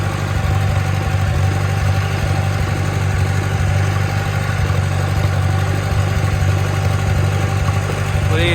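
A 1954 Farmall Super C tractor engine drones steadily while the tractor is driven, a loud continuous low hum with a constant pitch that holds throughout at close range.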